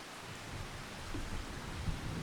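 Steady rain hisses across the whole moment in Farming Simulator 25, a dense, even wash of drops with faint low rumbles rising near the end, no voices over it.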